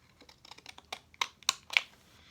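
Decorative edger scissors cutting paper, a quick series of small snips and clicks that grow louder toward the end, close and crisp, with no talk over them.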